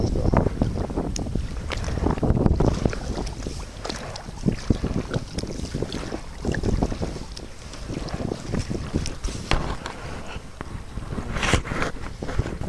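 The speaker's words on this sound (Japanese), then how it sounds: "おお、風吹きました。" Wind gusting at sea during sea kayaking along the Zushi coast near Kotsubo harbor, a steady rough rush buffeting the microphone throughout with occasional paddle and water knocks.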